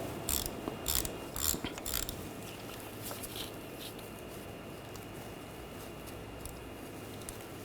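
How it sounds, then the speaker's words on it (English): A ratchet with an E6 socket loosens a bolt on a 2009-2013 BMW 328i xDrive, giving a few quick clicking bursts up close at the start before settling into quiet background noise. "Using a E6 socket, we're going to take this bolt out. Just loosen that up."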